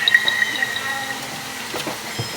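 Water poured into a pot of pancit with miswa noodles, a short splashing fill with faint dripping, close by and fairly quiet, with some brief kitchen clatter.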